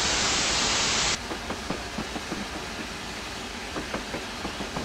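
Bullied Q1 steam locomotive on the Somerset and Dorset Joint Railway in Train Simulator, running into Midford: a steam hiss burst cuts off, leaving steady rumbling with rhythmic wheel clicks over rail joints.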